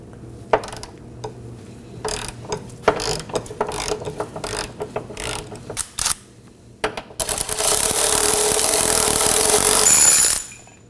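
Ratchet loosening the 21mm bushing bolts on a drive shaft tube of a 2018-2024 Chevrolet Equinox 1.5L: irregular close clicking bursts, then a long steady run of fast ratcheting that stops abruptly near the end.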